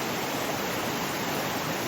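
An Appalachian creek, swollen by recent flooding and now receded, rushes in a steady, even wash of flowing water, close and continuous with no voices.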